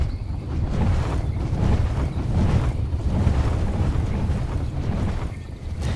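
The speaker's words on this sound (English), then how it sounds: "It's so annoying when you're building near a waterfall, because that sound just, you know, keeps droning on forever" A waterfall near a player-built base in the video game map Central Rivers, a loud continuous broadband rushing drone that swells and eases slightly without pause.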